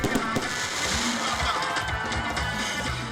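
Fireworks bursting at an outdoor show at the Toumodi stadium during the Bonjour Tour 2022 with a festive crowd, dense crackling pops and booms layered over a continuous roar of noise.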